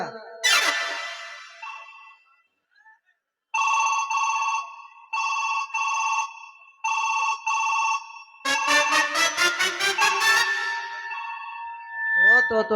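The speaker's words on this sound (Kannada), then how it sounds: "ಇದೇ ಖುಷಿಗಾಗಿ ಪಕ್ಕದ ಮನೆ ಪದ್ಮಾವಿ ಫೋನ್ ಮಾಡಿ ಹೇಳು" A phone call rings out in evenly spaced double-burst tones, three pairs with short silent gaps between them, bracketed by brief chirpy electronic sounds and a rapid series of beeps.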